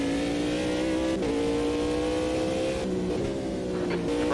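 An LMP2 race car engine in the Automobilista 2 racing game, holding a loud, steady high-revving drone with brief dips and pitch shifts as it changes gear, heard close and continuous with no talk.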